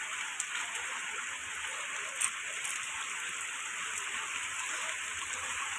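Steady rain falls outdoors, a dense even hiss of drops on surfaces with a few sharper close drips, continuous and moderately loud with no voices.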